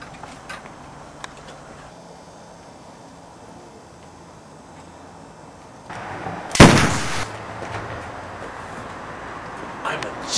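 Gunshot in a Hitman game trailer: one loud, sharp shot crack about two thirds through, preceded by a quieter ambient stretch and followed by a lingering noisy tail.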